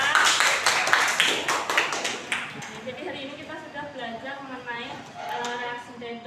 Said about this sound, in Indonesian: Beri tepuk tangan untuk Tika.